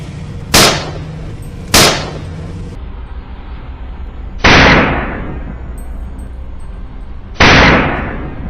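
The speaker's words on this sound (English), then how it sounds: "A decisive gunshot rings out the moment the wild boar emerges." Four sharp gunshots crack outdoors during a wild boar hunt, two close together, then two more spaced a few seconds apart, each loud blast trailing off in a short echo.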